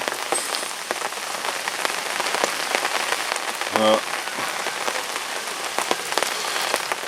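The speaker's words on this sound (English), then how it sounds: "Quite some heavy rain we've had come in now" Heavy rain pours steadily over a carp fishing lake, a dense, close hiss of drops drumming on surfaces throughout, with one brief louder knock partway through.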